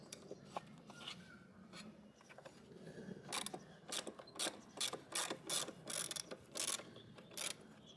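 A ratchet works at the bolt holding a blunt lawnmower blade, giving quiet clicking and whirring bursts that grow into rhythmic, louder ratcheting strokes toward the end, close by with no speech.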